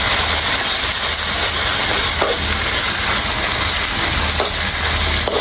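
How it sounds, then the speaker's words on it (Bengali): Ground spice paste fries in a pan for a Bengali Surma fish curry and crab curry, giving a steady, close, dense sizzle with a few soft stirring scrapes and no talk. "এবার সব মশলা আরও কিছুক্ষণ এভাবে ভেজে নেব"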